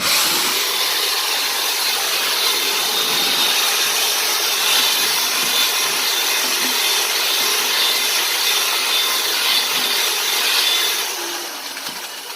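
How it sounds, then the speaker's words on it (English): A steady, loud drill whir mixing drywall mud in a bucket runs continuously with grinding, scraping texture, then eases off slightly near the end. "you want to mix it up, so you'll need a drill bit or something like that"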